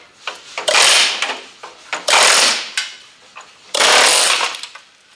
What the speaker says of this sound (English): I'm going to go ahead and take my air chisel, see if I can bust this loose